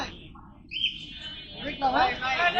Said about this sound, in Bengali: অনেক খাঁচায় অনেকগুলা কবুতর